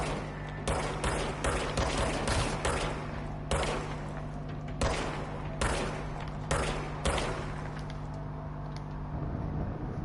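Gunfire from a sidearm in the game Control: a run of sharp, loud shots at irregular intervals, some in quick pairs, over a steady low hum with no talking.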